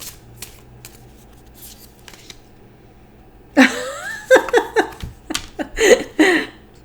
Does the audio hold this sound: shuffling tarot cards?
yes